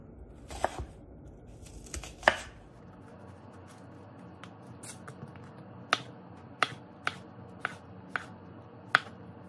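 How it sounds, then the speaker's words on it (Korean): A knife cuts onion into thin strips on a cutting board, giving sparse, sharp taps that start with a few quick cuts and then fall into a steadier rhythm of about one tap a second, close and distinct against a quiet room. "양파는 이렇게 채 썰어줍니다."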